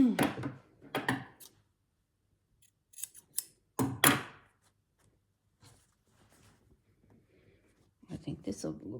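Cotton quilting fabric ripped by hand in a few short, sharp tearing bursts, close and fairly loud, with quiet gaps and soft talking between them.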